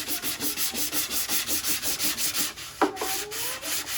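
Rhythmic back-and-forth sanding strokes rasp steadily on the old wood of a library cart, about four per second, close and loud, ending with a brief knock and a scrape.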